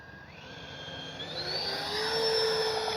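A Freewing L-39 80mm EDF RC jet passes low overhead with a steady, rising ducted-fan whine. It grows louder and higher in pitch, with no voices.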